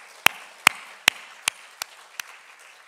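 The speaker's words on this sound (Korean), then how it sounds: "우리 한번 격려의 박수 한번 보내주시길 바랍니다." A church congregation claps in encouragement, six spaced, crisp claps at a steady pace, fading slightly in strength toward the end.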